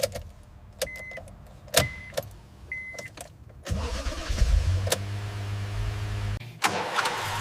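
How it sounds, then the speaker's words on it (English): A restored 1968 Toyota 2000GT: a few sharp clicks and mechanical taps, then the engine cranks and catches into a loud, close, steady idle that runs to the end. "The engine is asked to wake."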